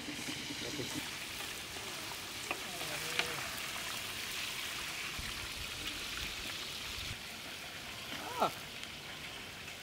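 Chicken roast frying in a pan over a village cooking fire, giving a soft, continuous sizzling hiss at low volume with a few faint clinks and muffled voices in the background.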